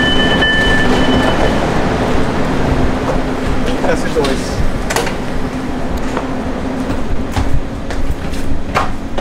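A train runs along rails with a constant rumbling roar, faint squealing tones and intermittent clicks from the wheels, while people converse over it.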